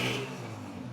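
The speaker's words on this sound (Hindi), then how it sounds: "इंजन चेक करो। वाह, कड़क साउंड, दबंग साउंड। होंडा 125।" A Honda 125 motorcycle engine revving up close, a loud steady mechanical drone with a slight surge at the start, heard alone for a brief moment.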